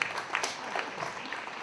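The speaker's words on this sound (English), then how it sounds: "Let's give them a round of applause." An audience applauds community elders at a Greek Independence Day flag-raising celebration, a short, moderately loud burst of scattered clapping that soon thins out.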